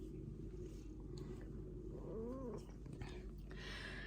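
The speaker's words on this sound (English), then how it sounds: "I've got a very vocal cat who wants to look outside" A vocal house cat wanting to look outside gives a single rising, wavering meow partway through, fairly faint over a steady background hum.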